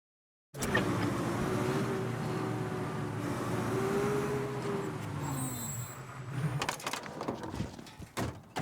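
A car engine hums steadily while driving in the Mafia video game, a loud sustained motor drone that dips and gives way to clunks and knocks near the end.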